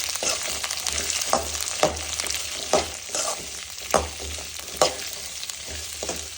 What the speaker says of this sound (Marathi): तर हे सगळं मी तेलात मिक्स करून घेतलं